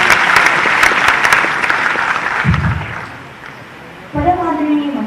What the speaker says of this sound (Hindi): आइए जोरदार तालियों से स्वागत करें